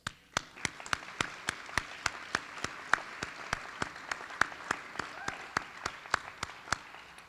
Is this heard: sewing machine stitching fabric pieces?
no